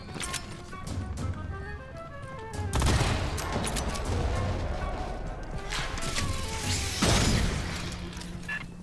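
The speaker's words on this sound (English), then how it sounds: "Sentry gun ready." Sentry gun in the video game Aliens: Fireteam Elite fires in dense, continuous rapid bursts, with louder surges near the middle and end, layered over in-game music and effects.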